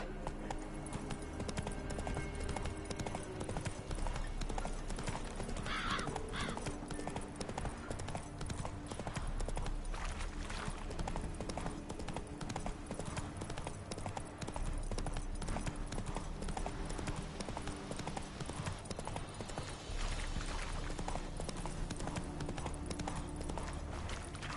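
Roach the horse galloping in The Witcher: Wild Hunt, a continuous rapid clip-clop of hooves at moderate distance over a steady background wash, with a faint voice at times.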